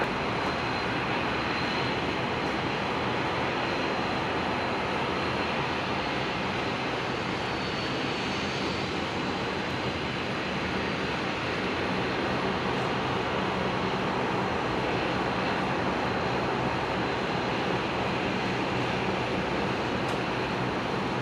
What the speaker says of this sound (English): The ERJ just arrived from Osborne Mine